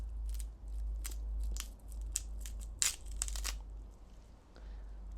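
A crisp yacon tuber is snapped by hand, giving a string of sharp, close crunching cracks, with one louder snap near the middle, over a low steady background hum.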